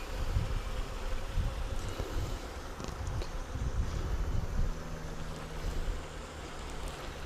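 Honey bees buzz around a Flow Hive during a hive swap, a continuous low hum of many insects close by, steady and moderately loud with a few brief clicks and no talk.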